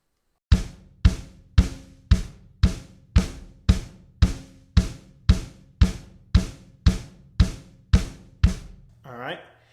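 A drum kit played with the right hand on top and the kick pedal together, sixteen evenly spaced strokes at 115 bpm, clear and close, ending with a short ringing cymbal-like tail.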